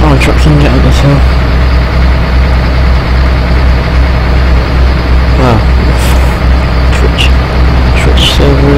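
A Freightliner Coronado truck in Euro Truck Simulator 2 labours up a hill, its deep diesel engine droning loud and steady, with a voice talking over it.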